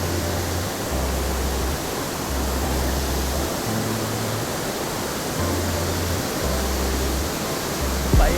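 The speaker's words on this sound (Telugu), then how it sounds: "పైనుంచి పడుతున్నాయి వాటర్." Water crashes down steadily from a height at a waterfall, a dense unbroken roar filling the whole stretch with no pauses or voices, loud and close.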